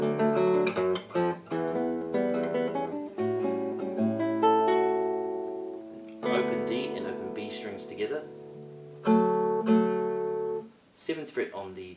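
Acoustic guitar fingerpicking a sequence of single notes and open-string tones, from open A up to fretted notes on the treble strings, with clear plucked attacks and ringing sustain in an uneven, phrase-like rhythm, played alone and close.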